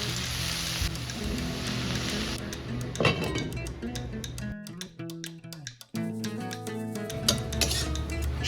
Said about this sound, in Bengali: ভালো করে নেড়ে চেড়ে শাকটা ঢেকে দেবো যাতে শাকটা মজে যায়